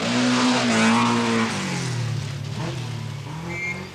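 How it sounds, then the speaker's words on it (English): Rally cars, Ford Escorts in the 1980 Mintex Rally, race past loudly with engine revs that rise and fall, then tires skidding on the stage as one car passes close by. "McRae has now got past the Rutherford escort into third place with a determined drive."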